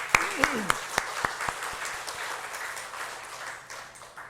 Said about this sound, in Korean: 우리 박수로 한번 영광을 올리겠습니다